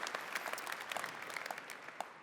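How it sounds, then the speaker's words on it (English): Keynote audience applauding at a Google Cloud conference in London, a steady dense wash of many hands clapping, moderately distant and even throughout, with no talking over it. "Let's give a round of applause."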